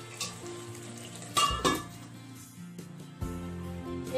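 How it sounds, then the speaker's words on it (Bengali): A metal lid comes off a cooking pot with a couple of sharp clanks and a scrape, close by, followed by a quieter knock a moment later. "এরপর ঢাকনা খুলে নিয়ে"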